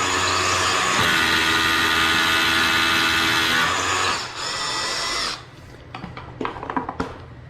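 Power drill driving Tapcon screws into concrete while framing a drop ceiling header, a loud steady whine for about four seconds that drops off, then short bursts and clatter as the screw seats.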